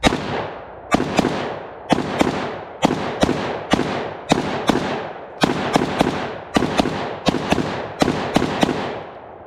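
KR9 rifle fired at an outdoor range, a steady string of about sixteen sharp, heavy reports in quick pairs and singles, each with a ringing decay, loud and close with no talk.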